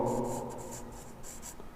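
Marker or chalk strokes on a board while graph axes are drawn for a chemistry lesson, a quick series of short scratchy strokes, close and alone.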